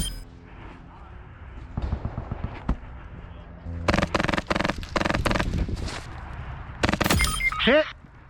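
Airsoft guns fire BBs in an outdoor game, heard as bursts of rapid, sharp, close snapping shots in clustered volleys, with people talking and shouting between and over them.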